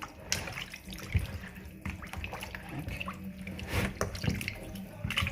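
Food being washed by hand in water with vinegar while preparing a southern Tunisian dish: continuous sloshing, splashing and dripping in a sink or basin, close and fairly loud with irregular bursts.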